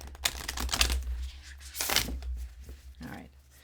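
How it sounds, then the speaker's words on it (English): Oracle cards being shuffled in quick papery riffles and slaps, close by, in two bursts separated by a pause, with faint speech in the background. "I think they have a good shuffle now"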